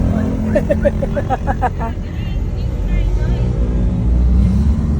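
Street traffic in the Philippines with new jeepneys, a steady low engine rumble and passing vehicles running throughout, with people talking over it in the first half.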